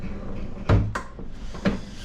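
Kitchen drawers in an old council flat in Edinburgh are pulled open: a few sharp wooden knocks and slides, close by, with two quick bumps near together and a third a moment later.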